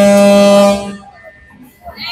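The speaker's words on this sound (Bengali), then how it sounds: "একটু পরেই লঞ্চগুলো ছেড়ে দিবে, তাই জোরে জোরে হর্ন বাজছিল।" A passenger launch ship's horn blasts loud and close before departure at a Barishal-bound river terminal, one long sustained tonal note that cuts off after under a second, leaving faint background noise.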